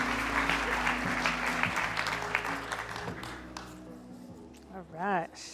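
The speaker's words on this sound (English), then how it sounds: "why don't we give a big round of applause as we welcome the incredible Julie to the stage" Audience applause and cheering fill the room as a speaker is welcomed onto the stage at a mental health talk, steady clapping fading toward the end, with a short whoop and a voice breaking through near the close.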